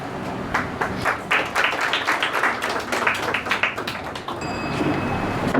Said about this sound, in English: Please give a big round of applause for the both teams.